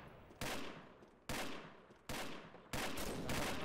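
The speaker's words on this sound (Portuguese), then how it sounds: "Dei tiro nele." Gunfire from the Combat Arms video game: four separate loud bursts, each a sharp crack that trails off into noisy decay, spaced irregularly and heard with no talking over them.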